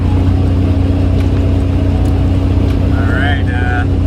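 A car hums steadily along Highway 46 through vineyard country, a loud constant road and engine drone from inside the cabin, with a brief faint chirp-like tone near the end.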